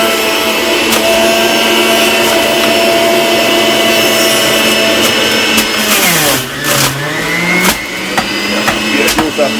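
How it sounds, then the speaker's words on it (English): A blender whirs loudly and continuously while making Jamaican-style carrot juice. Its motor pitch sags and recovers partway through as the blades bite into the load. "Original blender this up."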